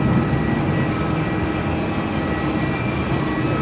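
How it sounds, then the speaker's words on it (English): An airliner rolls for takeoff on runway 34 at Melbourne Airport, a loud continuous engine roar and rumble heard from nearby, steady throughout without voices. "616, runway 34, clear for takeoff"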